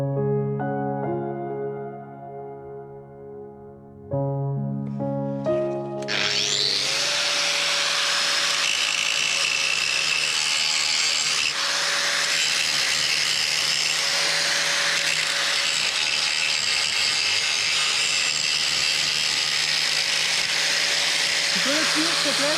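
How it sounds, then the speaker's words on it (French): Small angle grinder cleaning up a fresh weld in a workshop, spinning up to a loud, steady high-pitched whine that holds without break for most of the clip, close to the microphone. "Je vais prendre ma petite meuleuse, je vais nettoyer ma soudure"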